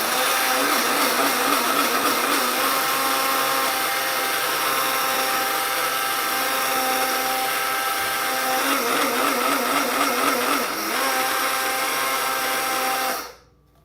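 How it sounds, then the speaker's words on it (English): A coffee grinder grinds beans in one continuous whirring burst that runs steadily for several seconds and stops abruptly at the end. "grinding my coffee"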